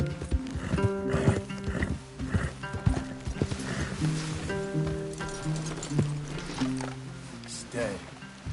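Horses in a PS4 video game clop along in rapid hoofbeats, with whinnies and rain or water noise around them and a game soundtrack underneath. Characters talk over the scene.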